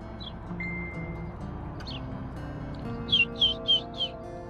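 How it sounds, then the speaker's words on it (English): A baby bird gives a few thin, high chirps, then a quick run of four sharper chirps near the end, over a low steady background hum with no voices. "Oh, it's a baby bird."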